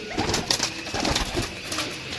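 Pigeons cooing close by, soft throaty repeated coos over a light background murmur.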